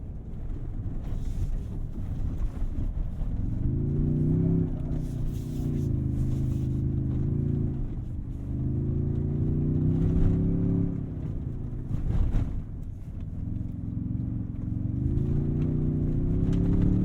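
A 2023 Toyota Tundra TRD Pro pickup drives off-road, its engine droning steadily with a rising and falling pitch as it works, under constant wind buffeting close to the microphone, with no talking.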